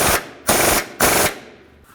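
Three quick, loud, rattling bursts from a power tool tighten the lower control arm bushing bolts on a 2009–2020 Dodge Journey. Each burst is sharp and close, and the last one tails off into silence.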